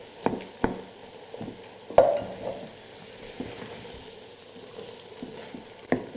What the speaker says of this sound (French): Je vais ajouter la tomate pelée.